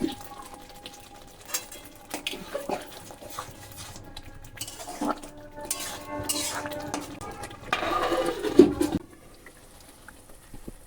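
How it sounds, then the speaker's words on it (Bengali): A spoon stirs spice masala in a cooking pan for a meat dish, giving irregular scrapes and metallic clinks against the pan, close up, with a bright clank near the end. "আবারও ভালো করে মিশিয়ে নেব এই মশলাটাকে"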